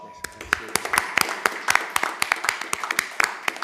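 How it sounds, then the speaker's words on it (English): Scattered hand claps from a small group at a board of directors' meeting, sharp and irregular, close by and fairly loud over a low room hum, with no voices over them. "I think that deserves a round of applause."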